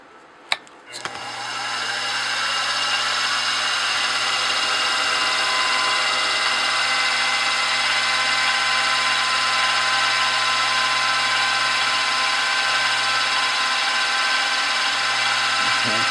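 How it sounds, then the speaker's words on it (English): A power tool whirs up after a couple of clicks and keeps running with a steady, high-pitched drone for the whole stretch as a center drill cuts starter holes in a radial engine crankcase cover. "I'm going to drill with a center drill all of the center holes"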